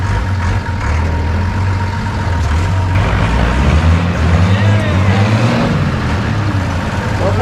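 Monster truck engine roaring close at high, steady volume with a low droning pitch and a turbo whine rising through it, continuous for several seconds with no pause.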